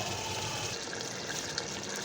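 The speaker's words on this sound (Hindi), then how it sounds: "इसके अंदर थोड़ा पानी ऐड कर देंगे" Water pours steadily into a pot of potatoes for aloo palak, a continuous gentle splashing and hiss at moderate level without pause.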